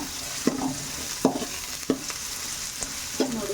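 Onion, capsicum and chili fry in a pan with a steady sizzle while a spatula stirs and scrapes them in several distinct strokes at a close, moderate level.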